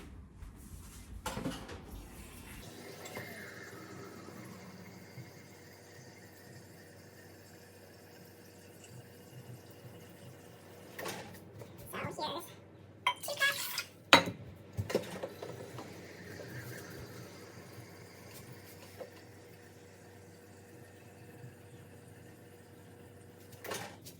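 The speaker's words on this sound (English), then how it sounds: "I'm gonna just bring a pot to boil with 4 cups of filtered water." Filtered water is poured into a cooking pot in a home kitchen, a quiet trickle joined midway by clanking of the pot and cupboard knocks.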